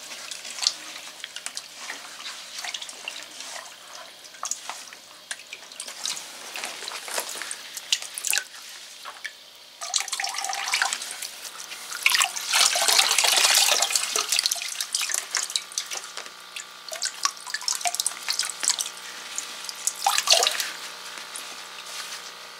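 Aquarium part being squeezed and rinsed in water during a water change on a Fluval Evo V nano reef tank, with close sloshing and splashing that swells louder midway and continues in bursts.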